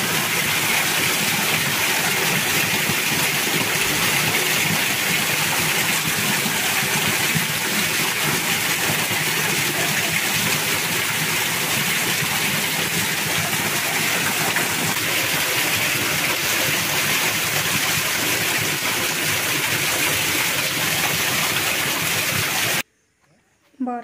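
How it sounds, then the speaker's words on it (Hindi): Heavy monsoon rain pours down steadily during a days-long downpour in rural Sambalpur, a dense, loud, continuous hiss and patter that never lets up, cutting off abruptly near the end. "इटा तो पूरा 4-5 दिन गला न लगातार वर्षा छाड़बार ही नहीं होची"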